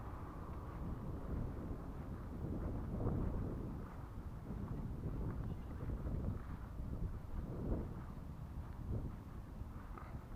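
Steady wind on open downland at Durdham Downs in Bristol, a low continuous rumble buffeting the microphone with gentle swells, no distinct events and no clear speech.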